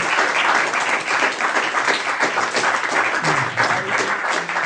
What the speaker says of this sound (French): on va d'abord applaudir Patrick Osmond, qui vient d'arriver